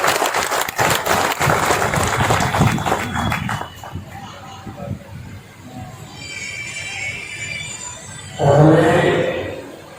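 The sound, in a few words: applause welcoming the Prime Minister at a Durga Puja inauguration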